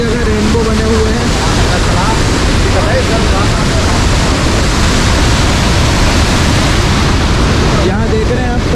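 The huge Iguaçu Falls waterfall in Brazil roars in a loud, constant, dense wash of rushing water, with a brief voice heard faintly at the start.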